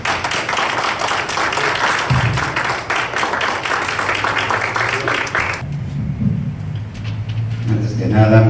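Audience applause at a national forum of independent presidential candidates, a dense, loud patter of clapping that stops abruptly partway through, after which faint crowd noise and a voice take over.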